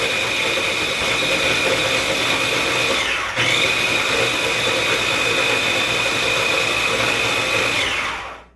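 A blender grinds oats into oat flour with a loud, steady high-pitched whir that dips briefly midway and then resumes until it winds down at the end, with no voices.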